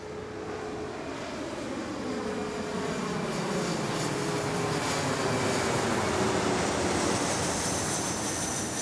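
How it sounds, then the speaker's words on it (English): A Boeing 737 passes overhead on a cold day outside a school, a steady broadband jet roar with slowly sweeping tones that swells and fades without any other sound over it. "Let's finish things off with another airplane recording."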